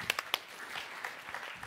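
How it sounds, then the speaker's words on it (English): Audience members at a startup pitch stage event clap faintly and sparsely, a few sharp claps at the start followed by soft, thin clapping over a short stretch. "A round of applause to the first brave team right here on the stage"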